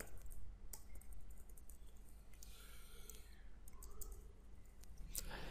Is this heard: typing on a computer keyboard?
yes